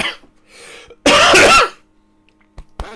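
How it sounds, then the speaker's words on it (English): A single harsh cough bursts out from a person at a tabletop Dungeons and Dragons session, close and loud, lasting about half a second amid otherwise quiet moments. "Bad cough you've got there."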